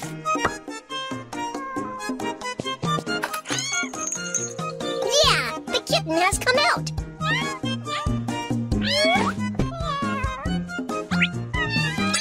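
A kitten hiding under a car meows repeatedly in a cartoon pet care video game, the cries mixed with cheerful music and chimes.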